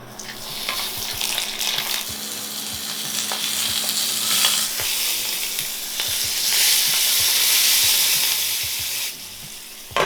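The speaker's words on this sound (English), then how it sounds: "Start by cooking the salmon skin side down. Once lightly browned, cover and cook gently." Salmon fillet frying skin side down in a pan, a loud continuous crackling sizzle that swells and fades slightly, with occasional pops, alone and close.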